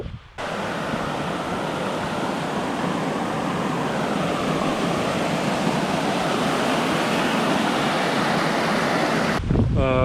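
Loud, steady mountain wind roars across the microphone for about ten seconds in Rondane National Park, Norway, a dense buffeting rush with no other sounds.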